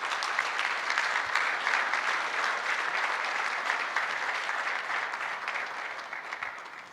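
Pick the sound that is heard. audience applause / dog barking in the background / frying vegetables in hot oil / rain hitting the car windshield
audience applause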